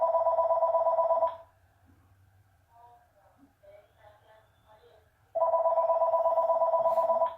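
An indoor telephone gives two warbling electronic ring bursts separated by a quiet gap of about four seconds, each loud and close, with faint low background sounds between them.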